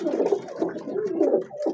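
Teddy pigeons coo in low, throaty, rolling phrases, several overlapping birds close by in a gallery, with a steady murmuring rhythm and no talking.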